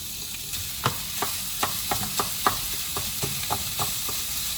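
Turkey mince sizzling in a hot pan, with a steady frying hiss broken by a dozen or so sharp knocks and scrapes of a spoon stirring the meat, close and fairly loud.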